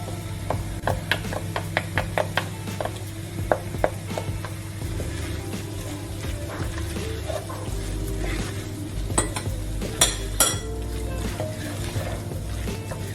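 A spoon scrapes and stirs chilli con carne with tomato paste in a pot, giving repeated clinking taps at the start, then steady close scraping and gentle sizzling, with a few louder knocks against the metal.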